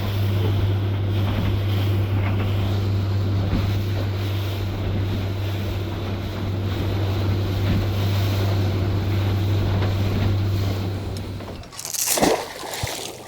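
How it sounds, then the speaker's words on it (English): Steady wind roars across a bay and buffets the microphone on a boat drifting for bass, with a constant low rumble and hiss, then a brief louder gust of rustling near the end; no one talks. "the wind's blowing straight across the marks that I want to drift"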